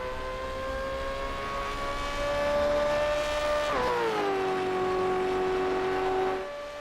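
A Gen 3 Supercar V8 in iRacing roars steadily at The Bend, then its engine pitch drops sharply as it brakes hard into turn 1 before fading.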